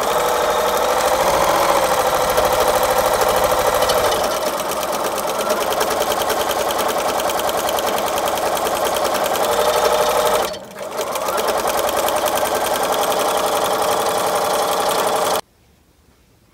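Sewing machine stitching a quarter-inch seam on a child's apron, running steadily and loudly for about fifteen seconds with a brief dip near the middle before it stops abruptly.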